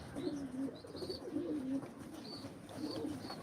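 Pigeons at a live auction of tumbler pigeons coo softly in low, rolling phrases, with faint higher chirps over a steady background hum. They sound fairly distant and quiet, and no one speaks.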